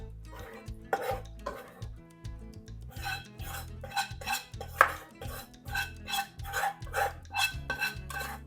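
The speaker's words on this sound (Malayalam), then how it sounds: "നമ്മുടെ ഈ കറിയെ ഞാൻ ഒരു സർവിങ് ബൗളിലോട്ട് മാറ്റട്ടെ." Curry being moved from a cooking pot into a serving bowl, with repeated metallic clinks and scrapes of a spoon against the vessels in a steady rhythm, close and fairly loud with no talking.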